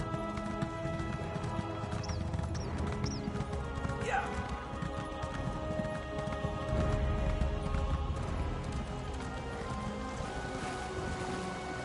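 Horse hooves clip-clop steadily in The Elder Scrolls Online amid a constant rain-like game ambience, with a faint whinny partway through.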